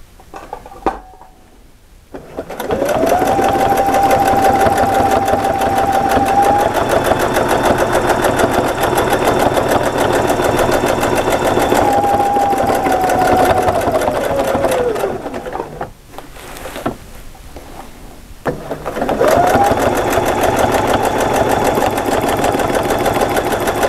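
A sewing machine stitches ruler-work quilting with a steady, close, fast mechanical whir and rattle that runs for long stretches, broken by a few short pauses.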